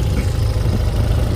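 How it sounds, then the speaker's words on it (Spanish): BMW R100 T motorcycle engine idling steadily up close, a loud, low, even throb with a slight pulsing rhythm and no voices. "Como veis, mantiene el ralentí perfectamente. Y el motor suena perfecto."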